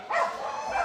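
Dog barking during a flyball competition, one short bark-like burst under less than a second of busy event noise, fairly close.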